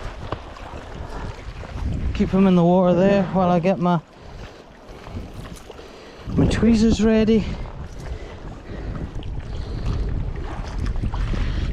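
Strong wind buffets the microphone beside the water while fly fishing for wild brown trout in a Scottish thunderstorm, a loud continuous rumble that swells and eases under a voice.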